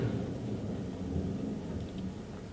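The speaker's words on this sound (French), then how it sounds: "Sacrée tempête." A storm rumbles with a low, continuous roll of thunder under a steady wash of rain, moderately loud and unbroken throughout, with no voices.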